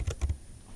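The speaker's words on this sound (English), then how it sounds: "So let's type that in." A few quick keystrokes on a computer keyboard, three soft close taps followed by quiet room tone.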